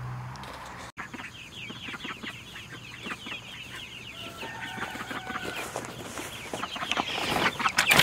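Several chickens cluck and chatter close by in a steady, overlapping stream, growing slightly louder toward the end.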